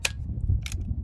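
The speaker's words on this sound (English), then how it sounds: "I'll just shoot it out real quick here." A Crosman Vigilante air pistol fires a stuck BB out with two sharp, close snapping pops about half a second apart over a low background hum.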